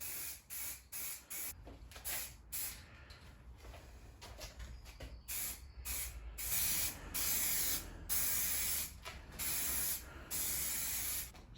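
Aerosol can spraying a light coat of satin black paint onto a Citroen C3 Picasso towbar part: repeated close bursts of hissing spray, short at first and then longer, separated by brief gaps.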